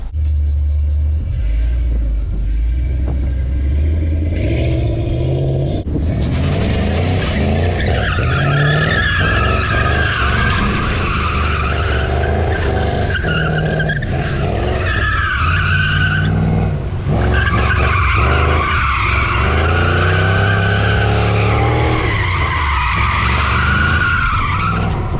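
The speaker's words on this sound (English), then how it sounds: "let's see if Pontiac can drift" A Pontiac G8 GT drifting and doing donuts, with long sustained tire squeals and skidding over a loud rumbling engine that revs and surges, heard close and continuous.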